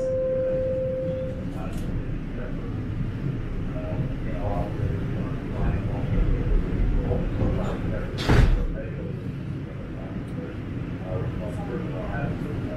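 Subway train doors close at Yonge Station in Toronto amid platform rumble, with a door thud and a hiss partway through and an announcement voice heard over it.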